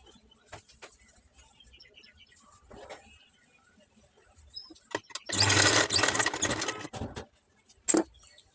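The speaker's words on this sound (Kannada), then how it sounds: "ಇಲ್ಲಿ ಮೇಲ್ಗಡೆ ಒಂದು ಸ್ಟಿಚ್ನ ಹಾಕೋರಿ." A sewing machine stitches piping onto a blouse, its fast whirring run lasting about two seconds after quiet handling noises, then a short final burst, close by.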